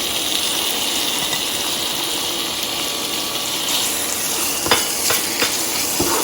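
Sliced chicken breast with tandoori masala, garlic and ginger fries in a pan with a loud, steady sizzle throughout, and a few brief clinks of stirring come near the end.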